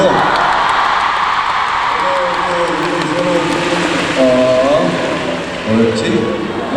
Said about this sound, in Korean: 우리 한번 박수 한번 쳐주시고